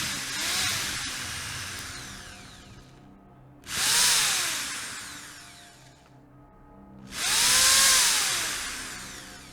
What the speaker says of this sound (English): drilling holes into a patient's skull, kind of like this.